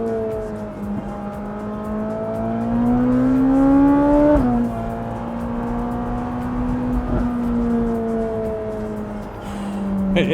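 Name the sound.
Ferrari engine revving through downshifts while driving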